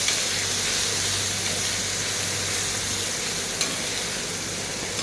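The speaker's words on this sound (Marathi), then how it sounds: "टोमॅटो टाकून पण आपल्याला मिक्स करून घ्यायचं आहे टोमॅटो पण छान असा नरम झाला पाहिजे तेलामध्ये" Tomatoes frying in hot oil with grated bitter gourd and onion while being stirred, giving a steady, close sizzle and hiss with no talking throughout.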